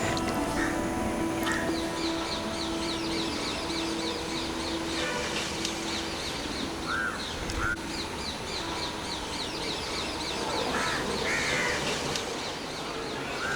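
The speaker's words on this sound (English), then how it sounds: "we can hear the birds" Crows caw repeatedly in short series, joined by other birds calling, over a steady outdoor background at moderate distance, in coastal natural habitat in India.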